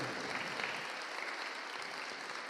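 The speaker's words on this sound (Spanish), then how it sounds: "Dale un aplauso a Él, fuerte." A church congregation claps steadily and loudly, a dense continuous wash of applause from many hands.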